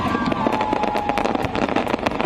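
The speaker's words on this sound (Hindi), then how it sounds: "ट्रंप की जीत पर समर्थकों ने आतिशबाजी की।" Fireworks set off by supporters celebrating Donald Trump's election win in Florida, a rapid series of sharp crackling bursts and pops over a steady crowd-like rumble, loud and continuous with a faint whistling tone early on.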